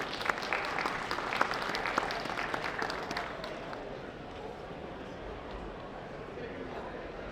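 An audience at a talk on weeds claps to welcome a speaker: dense, crackling applause that is full at first and then thins and fades over several seconds.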